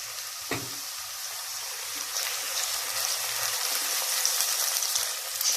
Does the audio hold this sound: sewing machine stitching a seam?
no